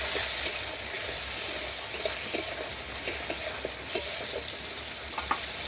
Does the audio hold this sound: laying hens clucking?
no